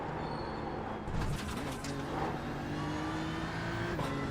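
A race car engine in the iRacing sim at the Nordschleife drones faintly and steadily, its pitch climbing slowly through a long pull with a brief shift near the end.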